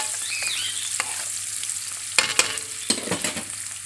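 Garlic cloves and coriander sizzle steadily in a hot pan while a utensil stirs them, giving a few distinct scraping clacks over a constant frying hiss, close and alone.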